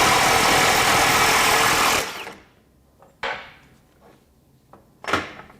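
A FLEX FX1471 high-torque impact wrench hammers loudly and steadily for about two seconds, then stops, followed by a few short, sharp bursts of hammering after quiet pauses.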